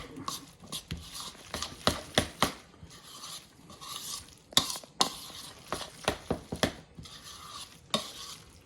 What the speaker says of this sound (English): now I'm going to stir it back up again